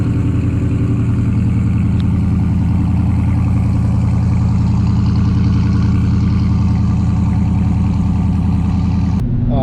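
A 2017 Dodge Charger Daytona V8 fitted with Hooker shorty headers idles steadily and loudly up close, a deep continuous rumble that cuts off abruptly at the very end.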